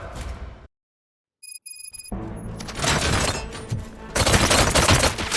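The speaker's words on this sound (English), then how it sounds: "Gunshots? What's going on?" Rapid bursts of gunfire in the video game Robocop: Rogue City crackle loudly after a short silence and a few electronic beeps, with shattering, chaotic impacts continuing to the end.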